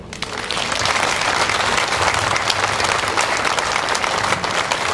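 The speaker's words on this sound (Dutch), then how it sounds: "voor u een heel groot applaus" A large audience gives loud, sustained applause for volunteers at a broadcast event in Limburg, with dense clapping that swells in within the first moments and holds steady.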